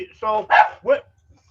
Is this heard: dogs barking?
yes